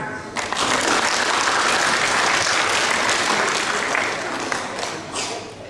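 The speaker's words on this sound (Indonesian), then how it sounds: "Ya, tepuk tangan." Children in a Sunday school Christmas audience at a church in Puncak Jaya clap together in a dense, lively round of applause lasting several seconds before it gradually thins out.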